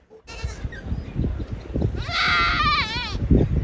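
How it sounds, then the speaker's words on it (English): Several goats bleat nearby amid rustling in Wenling, China, then one lets out a long, loud, wavering scream-like bleat that trails off. "These guys all make pretty standard goat noises, but then this is the screamer."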